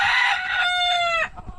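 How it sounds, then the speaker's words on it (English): A fighting rooster on a farm in Monteria, Colombia lets out a loud, close crow, a single drawn-out harmonic call that breaks off sharply, followed by a short quiet pause. "So these are the fine roosters, the skinny roosters, which are the fighters."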